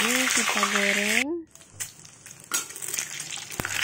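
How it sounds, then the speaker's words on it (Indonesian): Boiled eggs frying in a pan with oil, a steady crackling sizzle that stays fairly loud throughout, with a short tonal voice-like sound at the very start. "di sini aku goreng dulu ya telur yang udah kita rebus tadi"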